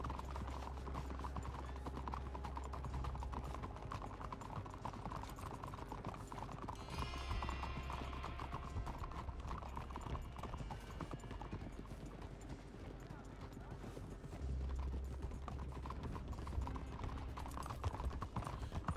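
Steady clip-clop of a horse's hooves walking at an even pace in Red Dead Redemption 2 runs under occasional talking and low mechanical creaks.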